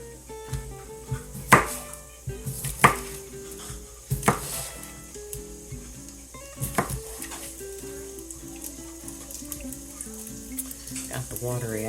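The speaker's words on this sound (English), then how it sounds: "I'm chopping the potatoes now." A knife chopping potatoes on a cutting board in a home kitchen, heard as a few sharp, irregular thuds and clacks, close by, over a background of kitchen clatter and a voice talking at times.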